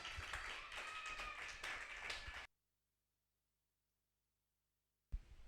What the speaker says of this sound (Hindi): सो जोरदार तालियों के साथ उनका स्वागत किया जाए